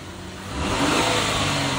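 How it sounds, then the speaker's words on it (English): A Ford car engine at a city auction revs up from a steady idle, the roar swelling after half a second and staying loud and close for the rest of the short burst. "Engine sounds really good on this one."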